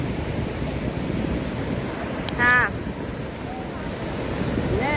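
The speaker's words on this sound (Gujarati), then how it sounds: "જોઈ શકો છો તમે દરિયાનું પાણી અમારા પગ સુધી આવી ગયું છે." Sea waves wash steadily onto a beach shore, a close, continuous rushing surf mixed with wind noise on the microphone. A voice speaks briefly and some faint distant sounds come through.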